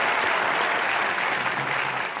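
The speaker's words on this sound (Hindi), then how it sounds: "इसके लिए तालियां बनती हैं।" Studio audience at a Hindi television comedy show bursts into steady, dense applause that fills the whole moment, loud and continuous with no talk over it.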